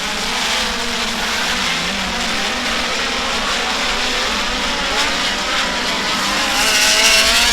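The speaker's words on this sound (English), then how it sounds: "It's the speed cars set sail for hot laps." Speedcars on hot laps at Warrnambool speedway roar continuously at close range, a loud sustained engine howl that swells as the pack passes.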